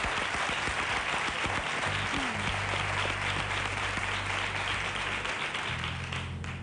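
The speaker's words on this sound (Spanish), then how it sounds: "Un aplauso para ella." Sustained audience applause fills a copla music show, dense and loud from start to finish, with a low hum and a brief voice heard faintly beneath the clapping.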